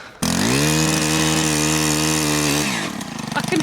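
A powered earth auger drills a fence post hole into stony ground, its motor roaring loud and steady at close range for about two and a half seconds before winding down.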